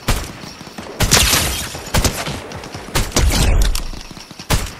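Rapid bursts of gunfire in a Fortnite squad match, with several sharp volleys and single shots spread across the stretch, loud and close with thuds between.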